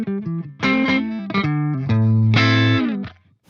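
An electric guitar played through a Tone King Imperial preamp on the rhythm channel with 4x12 cabinet impulse responses, giving a tubey breakup tone: a loud, close phrase of sustained notes and chords with no talking.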